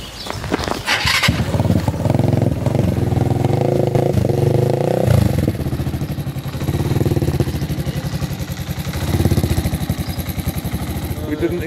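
A Suzuki GN125 motorcycle engine runs close by, with a rough, steady idle and short revs rising and falling under people talking.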